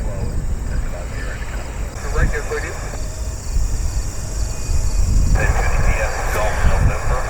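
Boeing 747 or 737 BBJ of the Dubai Air Wing Royal Flight landing in a crosswind, a steady roar of jet engines and wind rumble that swells slightly midway, with faint talk underneath.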